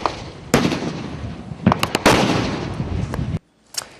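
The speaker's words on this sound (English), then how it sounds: "they're firing at us. They're firing RPGs and mortars at us." RPG and mortar fire strikes during fighting in Benghazi: a series of loud, sharp blasts and crackling bursts with rolling rumble, several impacts close together, then a sudden drop to quiet before one last faint crack.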